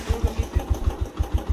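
A motorcycle engine idling close by, its low exhaust putting out an even, rapid chugging pulse of about six beats per second, with no voices over it.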